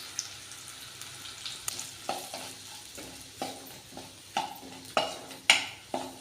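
Onions and vatha kuzhambu spice powder sizzle softly in hot oil while a spoon stirs and scrapes the pan in repeated sharp knocks, close and without talk.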